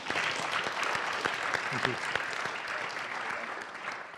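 A conference audience applauds after a panel session on cybersecurity and privacy, with sustained clapping of many hands at moderate volume and a speaker's voice briefly heard over it.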